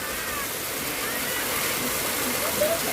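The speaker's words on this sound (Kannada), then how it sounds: "ನೀರು ಹರಿತಿದ್ದು ನೋಡ್ರಿ" Rainwater flows and falls into a drain, making a continuous close roar of rushing, splashing water that lasts the whole stretch, with a faint voice partly buried beneath it.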